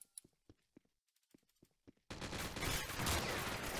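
Crossfire from several shooters in the Wardog Story game: a few scattered single shots, then a dense, sustained roar of overlapping automatic fire close up.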